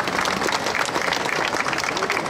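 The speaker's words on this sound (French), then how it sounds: "on peut les applaudir, mais comme les autres" Festival crowd at the Saint Fiacre celebration applauding garden service workers, loud, dense clapping filling the space with voices mixed in.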